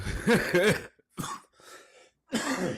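Several short, harsh coughs and throat-clearing bursts clearing phlegm, close up, separated by brief silences.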